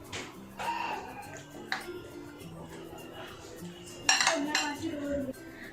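Spices with roasted cumin being mixed in a bowl, faint clinks and scrapes of a spoon against the dish in scattered bursts, quiet and close.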